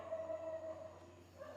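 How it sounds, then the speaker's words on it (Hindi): Dogs bark outside a house at night, heard faintly and far off as thin drawn-out howling tones over a low indoor hum. "कितने कुत्ते भौंक रहे हैं बाहर"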